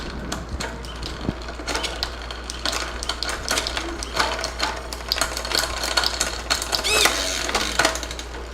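Electronic rear derailleur on a bicycle shifting gears, a run of short mechanical clicks and whirring bursts, close up and fairly even over a steady low hum, with no talk.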